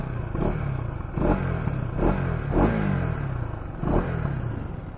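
A KTM Duke 250 motorcycle engine revs in several short bursts over a steady idle, each blip rising and falling, close and fairly loud.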